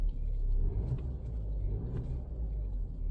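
A Mercedes C200 petrol AMG Line car idles quietly, producing a low, soft engine rumble that swells slightly with a light rev, heard close with no talking.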